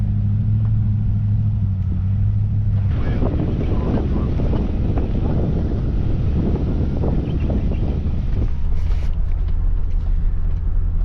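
Engine rumble and wind buffeting from a 4WD vehicle travelling a remote dirt track in South Australia's Bendleby Ranges, a continuous low drone with rattling and gusty noise through the middle.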